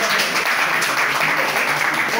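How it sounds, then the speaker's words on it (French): Students applauding in a high school classroom, a dense, steady clapping that stays loud and close for the whole stretch with no pauses. "Applaudissez pour nous."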